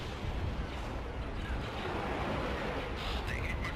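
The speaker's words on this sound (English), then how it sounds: "All the while just tossing a few proton bombs along as he goes. Yep, there go 2 more." Proton bombs exploding in a Star Wars video game as a torpedo base burns, heard as a loud, continuous roar of rumbling blasts and crackling debris with no pause, plus a few brighter sweeping tones near the end.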